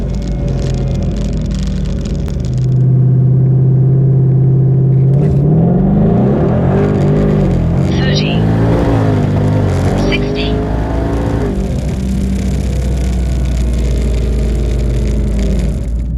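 A Hellion twin turbo Mustang accelerating hard on a street 0-60 run, loud close engine roar climbing through rising pitch sweeps with gear changes, steady powerful rumble throughout and a person speaking over it.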